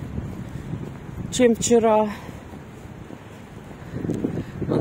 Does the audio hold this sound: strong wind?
yes